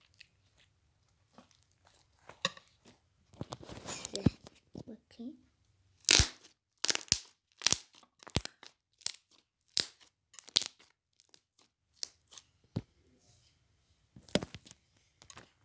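Sharp, close crackling and crunching squishes of crunchy slime in irregular bursts, with quiet pauses between and soft talking in the gaps.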